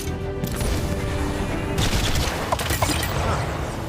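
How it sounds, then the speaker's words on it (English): Smart missiles fire in Iron Man VR as a dense, loud fusillade of whooshing launches and popping blasts, continuous and close with a few sharper bursts near the end. "Use your smart missiles to destroy the remaining targets."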